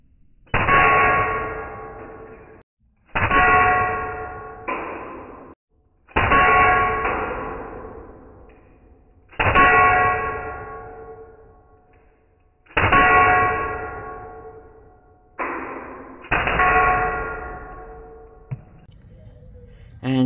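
Air rifle pellets hit a 5 mm thick glass wine bottle in a series of about eight loud ringing clangs, some closely paired, each note sustaining and fading without breaking the glass.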